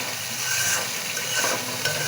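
Pohya fish curry sizzling and frying in hot oil as it is stirred in a pan, with a steady close crackle and scraping that runs throughout, and no talking.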